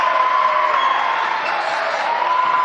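A Welch College crowd cheers and applauds after a dunk at an NCCAA regional tournament men's basketball game in a gym against CU Harrodsburg, a steady, loud roar of voices and clapping throughout.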